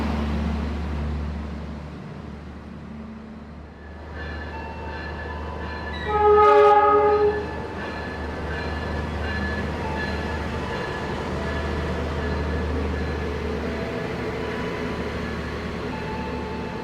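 The Kutojaya Selatan passenger train rumbles low and steady at a station as it departs, with a brief loud horn blast sounding midway over the continuous rolling drone.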